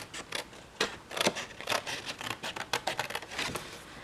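Scissors snipping through cardstock to trim off a half-inch scored strip, a series of close, crisp cuts in an irregular rhythm with brief pauses between snips.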